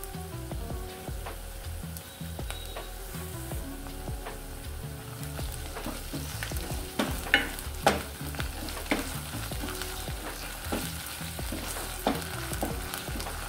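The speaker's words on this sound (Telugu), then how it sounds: "ఉల్లిగడ్డ కాస్త వేగాక ఇందులోకి 1 టేబుల్ స్పూన్ అల్లం వెల్లుల్లి పేస్ట్ వేసుకోవాలి." Onions frying with a spoonful of ginger garlic paste in a pan, a dense continuous sizzle and crackle with scattered stirring scrapes and clinks, close up and steady throughout.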